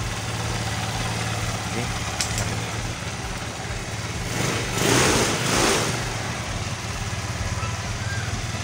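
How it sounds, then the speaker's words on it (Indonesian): A motorcycle engine idles steadily and close after being started with its electric starter, with a brief rev swelling midway while a person talks nearby. "sudah nyala dan berfungsi dari dinamo starternya."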